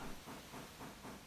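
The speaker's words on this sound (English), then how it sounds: "Ah, the sound of steam." Steady hiss of steam venting from a railroad steam locomotive, broad and close, swelling and easing in a slow regular pulse over a little more than a second, with no voices.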